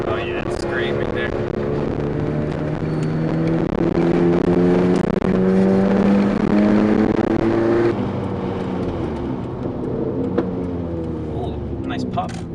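A Fiat Panda 100HP on FK Abarth 500 coilovers drives with a steady, close engine and road drone that rises and falls through the gears, heard from inside the car and continuous throughout.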